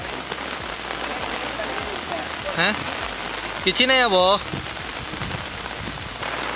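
Heavy rain pours down outdoors in a steady, dense hiss that lasts the whole time, with a few short bursts of speech over it.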